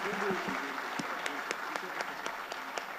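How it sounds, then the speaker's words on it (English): An audience at a stage event breaks into applause, a dense wash of many hands clapping at moderate distance that holds steady throughout, with a voice briefly audible at the start. "Please give them a big round of applause."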